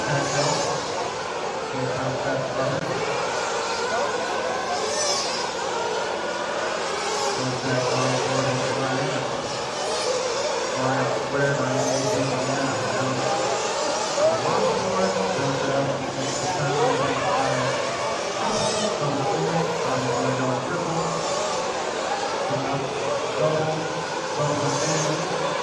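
Race cars lap during Thursday qualifying at the 2026 Silver State event, a steady broadband engine roar that swells and fades as cars pass, with a commentator's voice running over it throughout.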